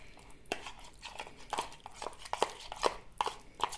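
A whisk or spoon works a softened, partly melted butter mixture for coconut sablés in a bowl, giving irregular soft scrapes and clinks that are close but quiet.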